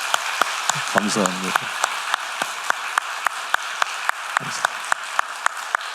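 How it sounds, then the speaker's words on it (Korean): A church congregation gives a round of applause for its teachers during a Sunday afternoon worship service, steady clapping running throughout with someone speaking briefly over it. "저를 박수를 한번 크게 격려해 드리십시다."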